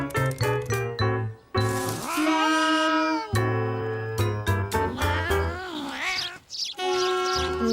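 A cat meows repeatedly in long, wavering cries, some drawn out and rising, close and fairly loud with short gaps between calls.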